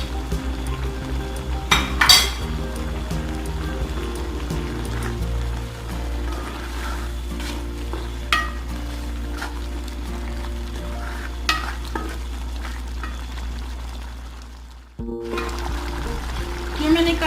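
Four chicken cubes frying in a pan for spicy pasta, a steady hiss of sizzling oil with clinks of a utensil against the pan and a brief lull near the end before the frying resumes.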